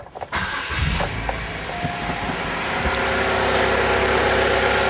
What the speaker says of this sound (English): I'm going to fire it up and make sure she's running on all 4 cylinders, nice and smooth